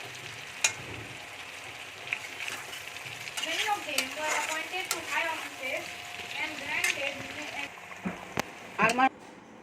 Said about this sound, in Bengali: আলু আর পেঁয়াজ ভাজা হয়ে গেছে